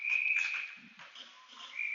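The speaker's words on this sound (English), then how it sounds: "And we got a whistle here" A referee's whistle at an ice hockey game gives sharp, shrill blasts at the start and again at the end, over a faint arena background.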